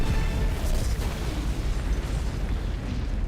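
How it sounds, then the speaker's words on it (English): A dense, roaring explosion scene from the Marvel film Black Widow, with continuous booming rumble and crackling debris filling the whole stretch at steady loudness. "just look at that one explosion scene in Black Widow"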